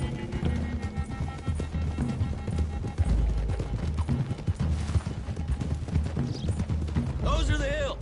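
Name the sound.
horses' hooves clip-clopping on a road, from a video game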